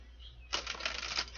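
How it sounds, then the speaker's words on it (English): A deck of cards is shuffled in a soft indoor room as one quick riffle of fluttering clicks, preceded by near silence and a low background hum. "One more shuffle here"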